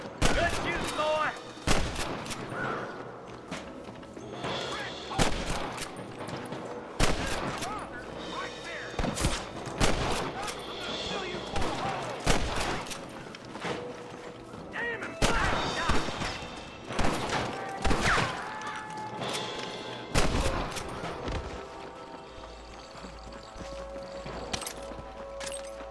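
Gunfights in Red Dead Redemption, with frequent sharp shots in bursts and single cracks across the whole span, some near and some farther off, mixed with hoofbeats and game noise.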